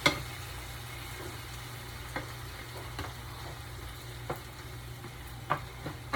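Ingredients for spaghetti stirred in a pan over a low, steady sizzle, with a few sharp scrapes and clinks of the utensil at irregular intervals, close and fairly quiet, no voices.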